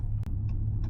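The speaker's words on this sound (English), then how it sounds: "Bro, listen how quiet my car is. It is on" A 600-horsepower Dodge Charger Scat Pack idles with a quiet, steady low rumble, broken only by a couple of faint brief clicks.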